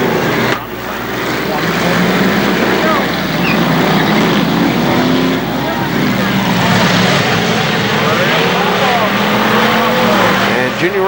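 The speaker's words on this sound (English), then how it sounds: "Junior Ross, car number 31, sideways, and he needs to finish, have a good finish in this race" Race cars roar around the figure-eight track at KilKare Speedway in a steady, loud, close wall of engine noise, with revs rising and falling throughout as an announcer's voice carries over the racket.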